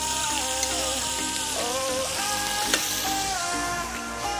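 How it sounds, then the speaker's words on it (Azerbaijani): Salted, oiled fish sizzles steadily in a very hot pan, a close, continuous crackling fry heard alone with a few sharp pops. "Bu balığı birbaşa isti tavaya."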